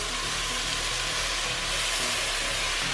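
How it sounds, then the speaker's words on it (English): Beef slices hitting a hot pan for Japanese nikujaga stew, a steady broadband sizzle and hiss that stays even and close throughout with no talking. "Add beef."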